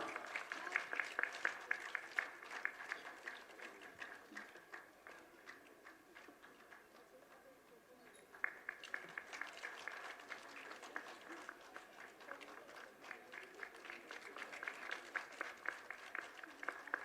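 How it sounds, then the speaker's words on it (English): An audience applauds at a Foundation Day celebration ceremony, steady faint clapping heard from a distance that dips briefly midway and then swells again. "Please have a big round of applause"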